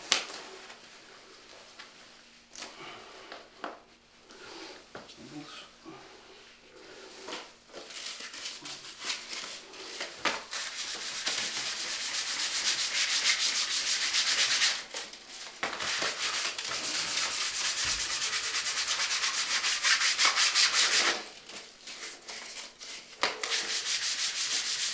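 Hand sanding a primed surface with fine P400 sandpaper, rhythmic back-and-forth rasping strokes that grow louder and more continuous, with brief pauses between passes.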